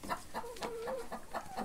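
Healthy laying hens on a farm cluck in close, repeated short calls, several overlapping birds in a steady rhythm over a faint background.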